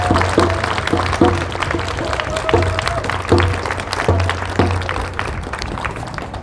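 A crowd at a Stop Asian Hate rally in Seattle applauds outdoors: loose, steady clapping from many hands continues throughout, fairly close and full, with a faint voice briefly audible.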